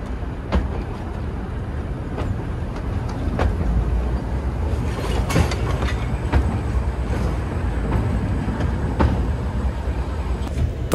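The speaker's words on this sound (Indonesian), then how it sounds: "Perjalanan menggunakan kereta api wisata dari stasiun Ambarawa ke stasiun Tuntang" A tourist train travels between Ambarawa and Tuntang stations in Indonesia, with a continuous rumbling roll and a rhythmic clickety-clack of wheels over rail joints, heard close and loud throughout.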